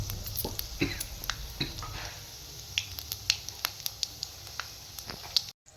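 Whole spices, black peppercorns and four dried red chillies crackle and sizzle in hot oil for a dhaba-style chicken fry, a steady hiss dotted with sharp pops that grow sparser before cutting off abruptly.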